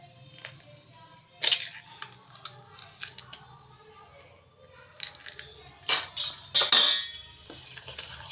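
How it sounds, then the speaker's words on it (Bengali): Sugar, eggs, butter and white oil for a soft Christmas cake are whisked in a bowl, with quiet scraping between sharp rapid bursts of utensil clinks against the bowl, grouped toward the end. "আমি চিনি, ডিম, বাটার, সাদা তেলটা ভালো করে ফেটিয়ে নেব।"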